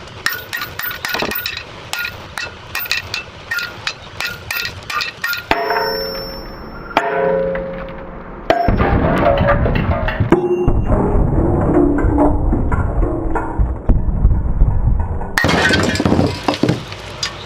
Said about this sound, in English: I use my 3-pound hammer again.